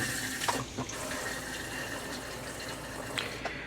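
A camper RV toilet flushes with steady rushing water running into the black tank, close and moderately quiet, with no talking.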